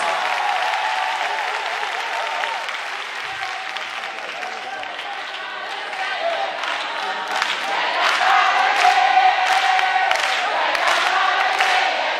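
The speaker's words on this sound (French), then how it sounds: "Merci de l'applaudir encore." Sustained audience applause at an anniversary ceremony, a dense wash of clapping with some cheering that holds steady for about twelve seconds and swells slightly louder near the end, with faint voices mixed in.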